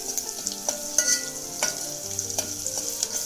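Onion sautéing in oil in a pan for a fish curry, a close crackling sizzle with repeated scraping and clinking strokes of a spatula stirring.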